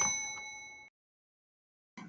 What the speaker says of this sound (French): Activez la cloche de notification pour recevoir toutes les nouveautés.